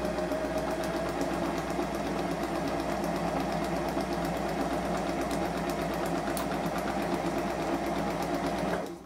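Sewing machine running steadily while stitching a straight practice line on a practice sheet, a continuous close whirring hum with rapid needle rhythm that stops abruptly at the end.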